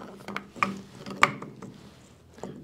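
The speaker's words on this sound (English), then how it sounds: "So let's go ahead and stick it in the lathe here." Metal lathe three-jaw chuck tightened on a Mag Lite flashlight part: a few scattered ratcheting, gear-like clicks and rubs, with one sharp metallic click standing out, close and moderately quiet.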